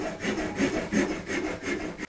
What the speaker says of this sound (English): So I'm just cutting the glue blocks with the correct angles so that they will fit in